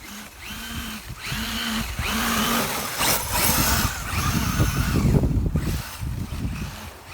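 A brushless-converted Losi 5T RC car runs through deep snow, its electric motor whining in rising and falling bursts with churning, crunching noise, loud and close throughout.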